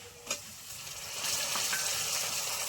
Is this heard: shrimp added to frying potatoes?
yes